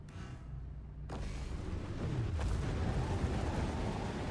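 Low, rumbling booms building into a continuous heavy roar of video game explosions during a race, with a sharp blast midway and no voices.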